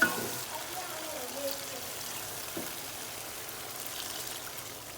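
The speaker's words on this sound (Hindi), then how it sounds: "अभी मैं इसमें थोड़ा पानी डाल दूँगी।" Water splashes into a hot pan of cooking mutton liver (kaleji) simmering in ghee, a brief pour followed by a soft continuous sizzle and bubbling with no talking.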